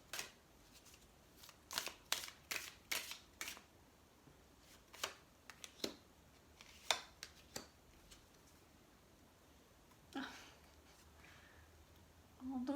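Oracle cards shuffled and handled on a table during a reading, with quick soft riffles and flicks clustered at first, then sparser taps, fairly faint and close.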